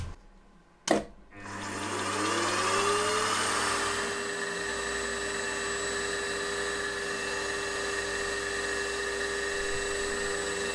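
A milling machine skims a few thousandths off the edge of a part clamped in a vise, with a sharp clunk at the start and then a steady whining cut with high ringing tones, continuous and fairly close.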